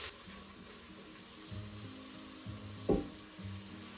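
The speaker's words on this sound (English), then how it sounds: "we're going to leave those for a couple of minutes to fry" Leeks and onions fry in butter inside a Crockpot Express, giving a quiet, steady sizzle with a low hum beneath and a brief knock near the end.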